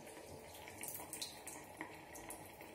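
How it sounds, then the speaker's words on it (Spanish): Tap water runs steadily from a faucet while soap and water rinse liquid matte lipstick off skin, a quiet continuous splashing with a few small splatters and no talk. "Aclarando con agua y jabón,"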